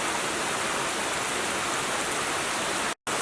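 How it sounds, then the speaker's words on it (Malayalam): Rain falls in a steady, even hiss at a family home, like a dense shower on surfaces nearby, with no voices. The sound cuts out abruptly just before the end. "ഇവിടെ നല്ല മഴയുള്ള സമയമാണ് ഈ സമയം."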